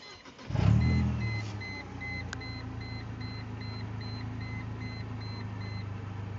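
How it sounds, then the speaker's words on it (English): A car engine cranks and catches in a garage workshop while a hydrogen HHO cell runs at 25 amps, then settles into a steady low idle with a faint repeating electronic beep over it. "Let's start up the car."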